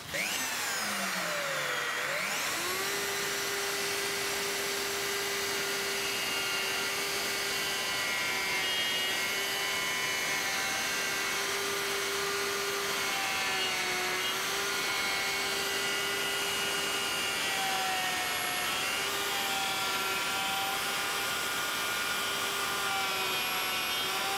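A DeWalt router spins up with a rising whine, then runs at a steady high-pitched drone through a test cut guided by a copy ring, holding a loud, constant tone with slight dips under load and no talking.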